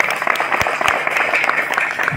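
A crowd at an Odia comic poetry gathering claps in a brisk, dense burst, with a few sharper individual claps standing out above the mass.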